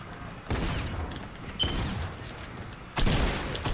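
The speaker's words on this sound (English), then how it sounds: "They're shooting at you." Gunfire in Fortnite comes as three separate bursts of noisy, sharp shots, each starting abruptly and holding briefly, moderately loud with no voices over them.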